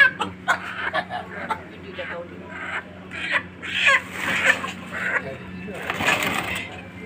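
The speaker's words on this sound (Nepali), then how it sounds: "कुखुरा निकाल्दैछु बोराबाट" Chickens are pulled out of a sack and cluck and squawk in short bursts close by, mixed with people talking.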